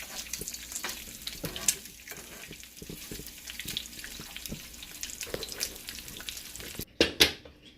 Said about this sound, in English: I'm going to let them simmer like that for about 15 minutes